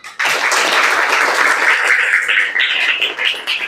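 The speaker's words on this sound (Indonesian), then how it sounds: "Boleh tepuk tangannya semuanya." A classroom of students claps together at the end of an Islamic religious education lesson, sudden and close, a dense, energetic burst of applause sustained for a few seconds.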